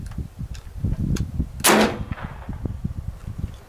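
A single sharp crack from a BinTac MCAR air rifle firing a 310 grain slug at full regulator setting, close and loud, amid quiet background shuffling.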